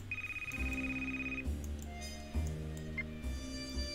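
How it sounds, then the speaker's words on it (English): Phone ringing in the video game Frog Detective, a repeating electronic ringtone melody with a high tone at first and then a lower layered tune, played alone at moderate level. "Answer the phone, Barney."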